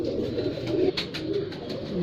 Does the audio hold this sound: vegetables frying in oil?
no